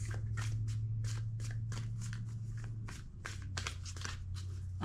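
Playing cards riffled and shuffled up close, a quick series of papery bursts over a low steady hum.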